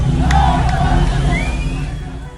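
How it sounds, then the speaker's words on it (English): A large crowd of protesters on an Iranian street chants and shouts together in a loud, dense roar, with traffic sounds mixed in and the volume slowly fading. "crowds chant slogans once unthinkable inside the Islamic Republic"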